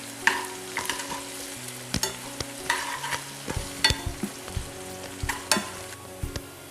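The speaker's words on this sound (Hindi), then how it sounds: "और अच्छे से चला लेते हैं।" An Indian tadka of onion, garlic and curry leaves frying in a pan for dal, with steady sizzling broken by repeated scraping, clattering stirs that come close and loud, and no voices.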